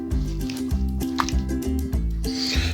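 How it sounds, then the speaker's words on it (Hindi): Fish in a bowl is worked with masala marinade, giving wet squelching squishes and small sticky drips in a quick repeating rhythm, close and clear, while music plays underneath. "अब इसको सारे जो मटेरियल है इसको अच्छी तरह मिक्स कर देंगे, ताकि ये जो इसमें अच्छा मसाला अच्छी तरह ये लग जाए।"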